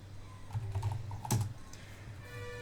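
Quick keystrokes on a computer keyboard: a short burst of soft, close clicks with a few sharper taps, alone without talk, while typing a Windows command.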